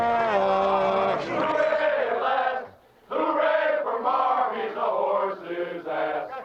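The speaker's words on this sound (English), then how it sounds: "And this crowd is bedlam." A stadium crowd roars after an NFL touchdown run in the 1995 season, a loud sustained bellow of many voices that dips briefly before swelling again.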